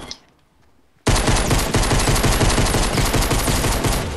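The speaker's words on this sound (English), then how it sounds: "Oh, geez, there's a guy shooting me." Rapid automatic gunfire aimed at the player in the video game Fortnite, a loud, dense burst of shots that starts suddenly after a brief quiet moment and keeps going with no talk.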